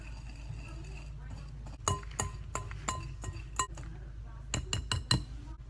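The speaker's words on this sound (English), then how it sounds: "the recipe says to go ahead and mix everything before you add the wet ingredients" Dry ingredients and chocolate chips are mixed in a bowl, producing a quick run of bright clinks and taps of a utensil against the bowl in irregular bursts, close and crisp, with faint low background noise.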